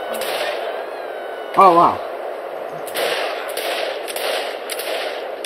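Enemies firing guns at the player in the video game Saints Row the Third: a run of sharp, evenly spaced shots in the second half over a steady background hum, after a short spoken exclamation.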